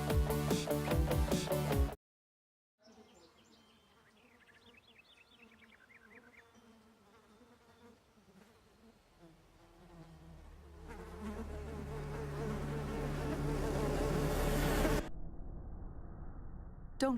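Mosquito whine in a Texas Zika awareness public service ad, a thin high buzz that wavers and drifts in pitch, alone and fairly close, with music coming in toward the end.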